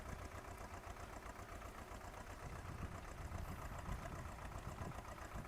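A Swaraj 724 tractor engine drones steadily while dragging an iron leveller across a chickpea field, a continuous low rumble with faint knocking, distant-sounding and fairly quiet throughout.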